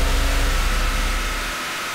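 A Nissan 280Z engine revs hard on a dyno, loud and close, with a steady high-rpm roar that drops off sharply near the end.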